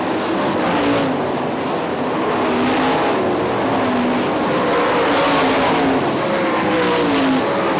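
Sprint cars racing at Hartford Speedway Park in 2005, a loud sustained roar of engines with pitch sweeping as cars pass and rev through the turns, no talk.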